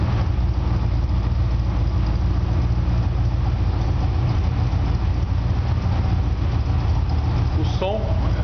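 A Dodge V8 with loaded lifters idles steadily in a busy workshop, a continuous low rumbling drone under a voice.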